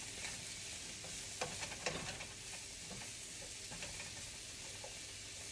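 Mushrooms cooking down in a chicken skillet, a steady soft sizzle and hiss with a few light stirring clicks, close and without talk.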